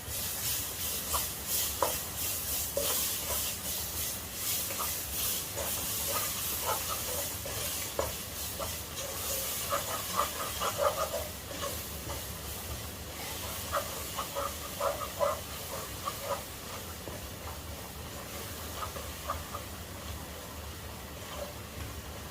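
Chicken with chopped onion sautéing in a pan for white sauce pasta, a steady sizzle with frequent stirring and scraping clatters, close and continuous.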